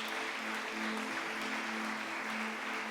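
A congregation at an evangelical church service claps in praise, a soft, distant, continuous patter of hands with a faint sustained tone underneath.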